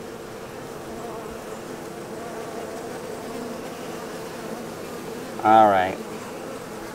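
Honeybees hum in a steady, close drone around a homemade hive, with a person speaking briefly near the end.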